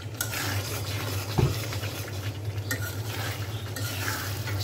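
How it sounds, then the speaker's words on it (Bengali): Fermented dried fish and gourd leaves fry in a pan under repeated stirring, a soft, steady sizzle broken by scraping strokes and one sharp knock against the pan. "আর অনবরত নাড়তেছি।"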